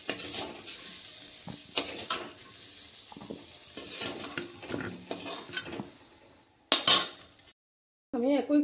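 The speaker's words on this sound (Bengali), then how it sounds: "এবার আলুগুলি আমি একটা বাটিতে উঠিয়ে নিচ্ছি" Browned, partly cooked fried potatoes are scooped out of a kadai into a bowl: repeated close spatula scrapes and metal clinks in uneven strokes, a brief silence, then a final clatter.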